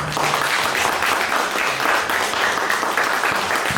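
Congregation applause during a Sunday worship service at a Korean church, a steady, even patter of many hands clapping at moderate distance, with no voices over it.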